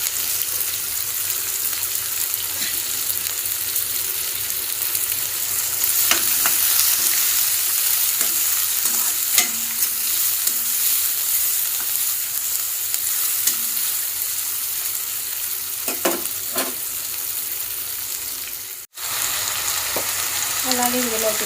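Cumin seeds and thinly sliced onions fry in hot oil, a loud, continuous close sizzle with a few soft stirring scrapes and a brief break near the end.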